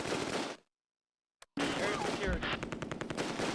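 Machine gun fire in the WWII video game Close Combat: A Bridge Too Far, with rapid bursts of close gunfire that cut out into near silence, then resume as dense rattling fire with rhythmic repeated shots.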